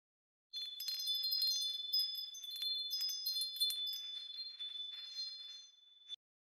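A set of bells rings alone on a soloed track, bright overlapping chimes with clear tinkling strikes over about six seconds, then cutting off abruptly, dry without added reverb.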